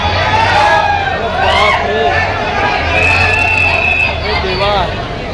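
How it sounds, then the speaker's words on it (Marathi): Dense crowd hubbub at a railway station packed because trains are running late, a steady near babble of many voices with traffic and vehicle rumble underneath, and one nearby voice speaking over it. "गर्दी बघा ट्रेन लेट असल्यामुळे"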